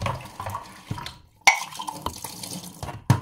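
Tap water runs into a sink while dishes are washed by hand for a first rinse, a steady splashing flow broken by a few sharp clinks and knocks of dishware.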